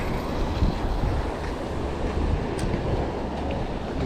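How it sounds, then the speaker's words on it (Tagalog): Strong sea waves after a typhoon surge and roll in a steady, rough wash, mixed with gusty wind buffeting the microphone, no voices present. "Lakas ang alon eh."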